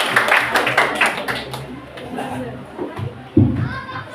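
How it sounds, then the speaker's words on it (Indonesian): A class of participants claps together in a classroom, a brief burst of fairly close applause that fades after a second or two, followed by scattered voices and chatter. "tepuk tangan Bu."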